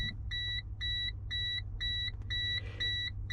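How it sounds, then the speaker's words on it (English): A 1995 Geo Tracker's key-in-ignition warning chime beeps in a steady, rapid repeating pattern of short bright tones over a low engine-like rumble inside the car. "Take a listen to the beep."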